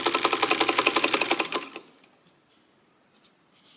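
A sewing machine stitches quilt fabric in a rapid, even burst of needle strokes for about a second and a half, then stops, leaving a quiet room with a couple of faint clicks.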